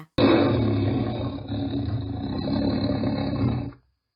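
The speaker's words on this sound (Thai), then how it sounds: "สิงสาร้องโฮกเสียงดังลั่นป่า" A forest creature in a Thai audio drama lets out a single loud, rumbling roar that fills several seconds before cutting off abruptly, with no voices over it.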